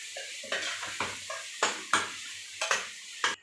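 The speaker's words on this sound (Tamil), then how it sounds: "லோ ஃப்ளேமில் வச்சு வதக்கணும்," Pepper chicken masala being sautéed on a low flame, with a spoon scraping and stirring in the pan at irregular intervals, sharp clinks over a soft, faint sizzle.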